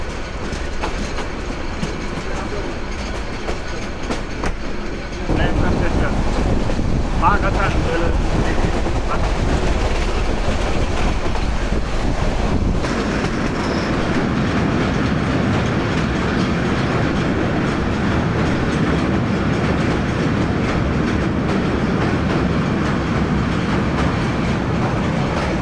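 Passenger train heading toward Akhaura Junction in Bangladesh, heard from inside an air-conditioned coach: a steady loud rumble and rattle of wheels on track, growing fuller and rougher after a few seconds and continuing throughout.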